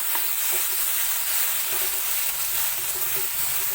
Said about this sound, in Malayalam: അപ്പോൾ നമ്മൾ മൂടി തുറന്നു കൊടുത്തിട്ടുണ്ട് നമുക്ക് ഇളക്കി കൊടുക്കാം